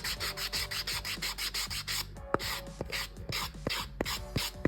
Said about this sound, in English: take your sanding block and you just kind of rub the edges.